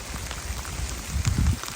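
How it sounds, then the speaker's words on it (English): Steady rain falling on a trail in the Appalachian woods, a continuous close patter of drops with no voices. "It's raining good right now."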